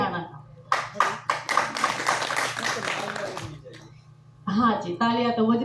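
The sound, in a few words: audience clapping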